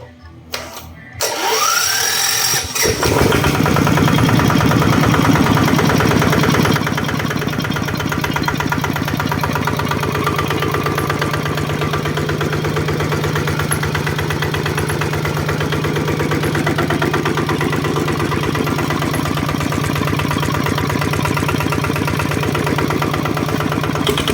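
An RT140 engine with its factory starter motor cranks briefly, catches and settles into a steady, loud running chug that continues for over twenty seconds without anyone talking.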